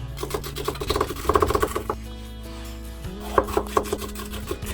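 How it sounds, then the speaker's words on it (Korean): A knife chops vegetables finely on a cutting board for Korean-style sweet and sour shrimp, giving close, quick rhythmic taps in short bursts with brief pauses between them. "야채는 잘게 썰어줘."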